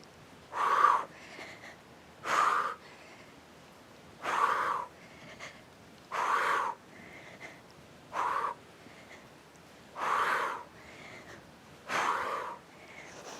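Heavy, rasping breaths repeat in a steady rhythm during a workout, about eight strong exhales roughly every two seconds, close to the microphone with no talking.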